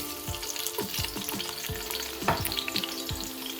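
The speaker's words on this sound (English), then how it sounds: "You will need some oil. You can put like 3 to 4 spoons of oil. I have olive oil in. So what you're gonna do now is to put your onion" Onion fries in olive oil in a stew pan with a bright, constant sizzle, while a few soft scrapes and bumps from stirring land on top of it close by.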